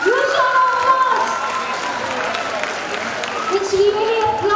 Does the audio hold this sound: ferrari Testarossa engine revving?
no